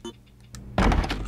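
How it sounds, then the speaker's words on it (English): Zombies bashing against a door in Resident Evil Outbreak: a loud heavy thud followed by rattling impacts, preceded by faint knocks. "Oh my god, they're bashing the door."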